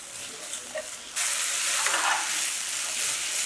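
Green onion frying in oil to make scallion oil: a quiet crackle at first, then a sudden steady, bright sizzling hiss as the pan heats up, close and continuous with no talk.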